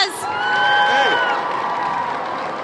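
A pep-rally crowd of students cheers and whoops loudly in a big hall, with a swell of shouting and scattered clapping that peaks early and then settles into sustained roaring, close and full.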